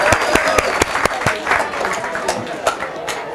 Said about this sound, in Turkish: Arkadaşınız için bir alkış alabilir miyim?